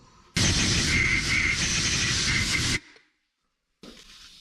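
Sandpaper rubs old bearing material off a part for a Hardbody mini truck build, making a loud, dense scraping rasp for over two seconds before stopping abruptly, followed by a short faint resumption.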